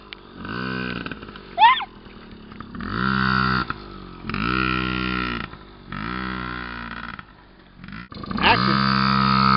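A small Yamaha PW50 dirt bike engine is revved hard to full throttle in repeated loud, buzzy surges close by, with short pauses between them.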